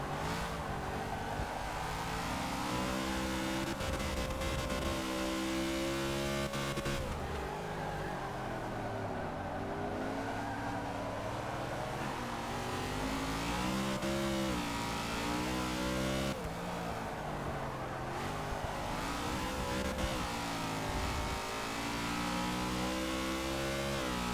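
A race car engine revs and shifts through a lap of the Brands Hatch Grand Prix circuit in the Forza Motorsport 6 video game, loud and continuous, rising and falling with gear changes, other cars audible nearby.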